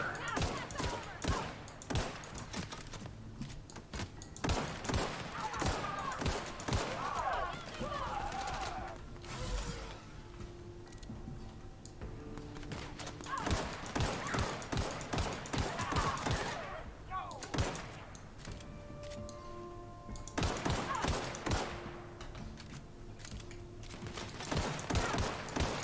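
Sustained gunfire in the video game Fallout, with dense bursts of rapid shots and mechanical clanks repeating nearly nonstop at loud, close range.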